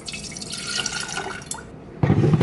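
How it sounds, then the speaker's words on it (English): Filtered water pours into a jar set on a kitchen scale, a close, steady splashing trickle for about two seconds that ends with a sharper, louder burst of liquid. "I'm gonna put 60 grams of filtered water"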